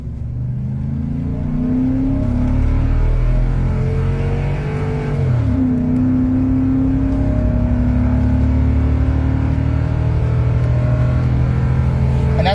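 A Ford F-250 pickup accelerates at full throttle while towing a heavy load up a slight uphill, its engine droning loud and steady throughout, pitch climbing through gear shifts with one clear drop and rise midway.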